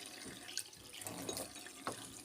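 Water is poured into a fish tank with a soft, continuous trickling and splashing, fairly quiet and close, with a few brighter splashes and no talking.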